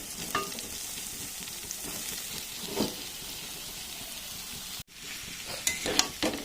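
Young jackfruit and potatoes hit hot spice paste in a pan for a Bengali curry with meat and soybean, giving a steady close sizzle with stirring scrapes and a brief pause partway through.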